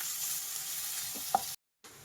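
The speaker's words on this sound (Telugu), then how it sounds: "ఉల్లిపాయలు మంచి గోల్డెన్ కలర్ వచ్చేదాకా వేపుకోవాలన్నమాట ఇప్పుడు కొంచెం బాగా ఉల్లిపాయలు వేగాలి" Sliced onions and green chillies sizzling in hot oil in a pan: a steady, close hiss with a soft tap or two, broken off abruptly near the end.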